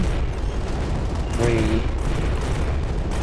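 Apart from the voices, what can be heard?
explosion sound effects and projectiles in arcade video game Starlight: Eye of the Storm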